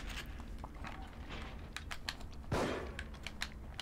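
Gunshots sound in The Evil Within horror game: scattered faint pops and clicks, with one heavier blast partway through, set in a quiet, muffled game ambience without talk.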